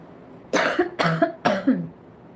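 Three sharp, close coughs in quick succession from a person wearing a tight face mask, each burst short and muffled, followed by quiet.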